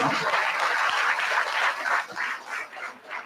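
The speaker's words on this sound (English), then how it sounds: "Big applause to him." A crowd at a Navarathri day-nine gathering claps warmly for a man who decorated the alankarams, dense continuous clapping that swells and fades slightly toward the end.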